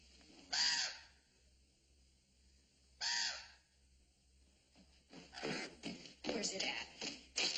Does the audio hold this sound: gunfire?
no